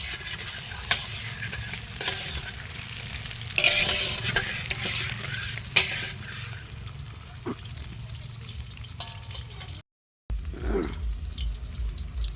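Four kilograms of chicken cook in a pot at an outdoor picnic, with a continuous bubbling sizzle, stirring scrapes and a wet trickle. A brief dropout near the end breaks the steady close simmer.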